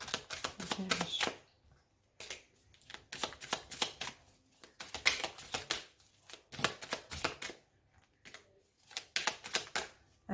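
A deck of haiku oracle cards being cut and shuffled by hand: repeated quick riffling and flapping bursts in an irregular rhythm, close and crisp with short pauses between.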